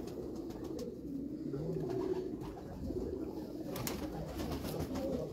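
Pigeons coo softly in low, rolling phrases on a rooftop in Mianwali, faint and repeated over background hiss and distant noise.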